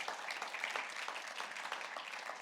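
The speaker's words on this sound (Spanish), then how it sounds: "Le da ese aplauso" A church congregation applauds, with faint and somewhat distant clapping that holds as a steady patter throughout.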